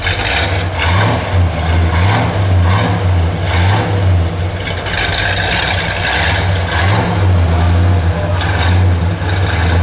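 A green 1969 Dodge Charger 500 with a 440 V8 and four-speed, running indoors: a loud, deep, lumpy idle with rhythmic pulsing and swelling revs, close and continuous with no talk.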